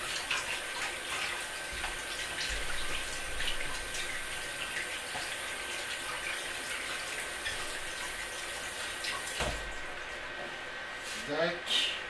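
Carrots are rinsed under a running tap, a steady spray of water flowing for about ten seconds before it stops, with someone speaking over it.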